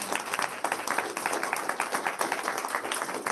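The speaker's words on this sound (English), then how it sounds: "so we applaud him and thank you for representing Plainview" An audience at a school board of education meeting claps steadily throughout, a dense, even patter of many hands at moderate loudness with no pause.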